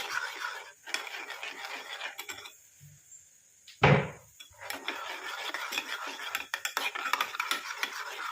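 Heated juice mixture stirred in a bowl, a utensil scraping and clinking against the sides in repeated close strokes, with a short pause and one sharper knock partway through.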